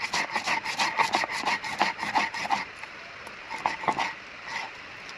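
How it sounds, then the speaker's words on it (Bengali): Coriander leaves and salt are ground together by hand for a Bengali pointed gourd and potato mash, a rhythmic rasping scrape of close strokes that slows and thins out in the last seconds. "এবার আমি এই যে ধনিয়া পাতা আর এই যে লবণে একসাথে বেটে নিব।"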